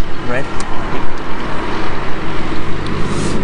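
Steady rumble of road traffic with passing trucks and tractors near a French village, a continuous low engine drone outdoors, with faint voices now and then.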